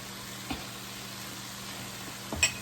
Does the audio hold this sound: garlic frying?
yes